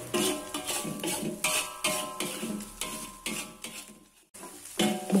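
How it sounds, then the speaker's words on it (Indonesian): Yellow spice paste stirred and scraped in a wok for fried rice vermicelli, with repeated rhythmic metal clanks of the spatula against the pan over a light sizzle, loud and close, pausing briefly near the end. "Saat mengaduk-aduk bumbunya, kita aduk sampai benar-benar ke dasar wajan ya teman-teman"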